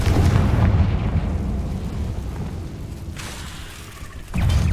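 A Confringo spell blast in the Hogwarts Legacy video game: a loud, sustained explosive roar that fades gradually, then a fresh burst of rumble near the end.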